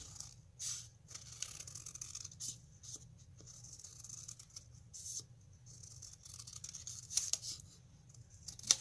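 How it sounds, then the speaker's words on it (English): Scissors cutting around a curve in paper or card for a Halloween craft, a series of soft, close snips and rustles over a quiet low hum. "you're just going to cut around this curve right here"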